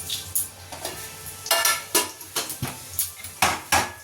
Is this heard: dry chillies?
yes